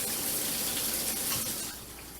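Shower water runs steadily from a tap in a house, a continuous close hiss and splash that eases slightly toward the end.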